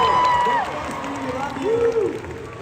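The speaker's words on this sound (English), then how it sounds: "Can we all cheer for SB right now?" A crowd at a VidCon panel cheers and claps together, a loud, dense roar of voices and whoops filling the room, with a few individual shouts rising above the mass.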